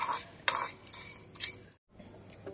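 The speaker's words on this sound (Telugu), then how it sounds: "వేసుకొని ఫ్రై చేసుకోండి. ఒక 1 మినిట్ అట్లాగా తిప్పుతూ ఉండండి." Prawns frying in a pan with a small piece of cinnamon, stirred with a metal spoon that clinks and scrapes against the pan in a few short bursts, with a brief silent gap midway.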